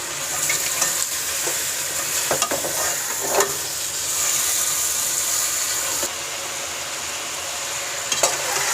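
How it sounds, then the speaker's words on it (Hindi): Chicken being stirred with biryani masala in a pot, a steady sizzle and frying hiss running throughout with occasional spoon scrapes and knocks against the pot, close and continuous with no talking. "अभी मिक्स कर लेंगे अच्छे तरीके से।"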